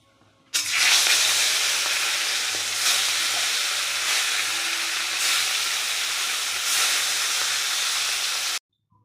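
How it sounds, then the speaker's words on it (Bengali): Fish rubbed with salt and turmeric fries in hot white oil, giving a loud, steady sizzle and hiss that holds for about eight seconds before cutting off abruptly. "এবার আমি মাছটা ভেজে নেব"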